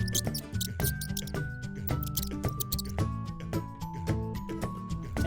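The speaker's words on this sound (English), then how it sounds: "Mouse." A mouse squeaks in quick, faint, high-pitched bursts scattered over a continuous melodic music bed.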